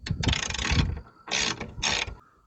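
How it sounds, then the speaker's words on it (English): A ratchet fitted with a T40 socket loosens the hatch lift strut bolt on a 2001 Jeep Grand Cherokee, giving three close bursts of rapid metallic clicking separated by short pauses, with no voices. "we're going to use the same T40 to pull this one out too"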